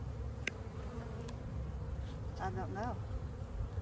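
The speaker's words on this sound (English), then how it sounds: "See all these bees?" Honey bees hum steadily around a freshly opened hive during an early-spring inspection after winter, a close continuous buzz with a brief spoken phrase over it.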